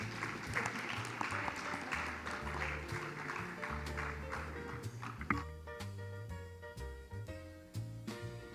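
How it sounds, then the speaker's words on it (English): A conference audience at the Heart Team Africa Cardiotan Imaging event claps for the sponsors, a steady patter of applause layered over loud, rhythmic music playing throughout. "A big round of applause for our sponsors"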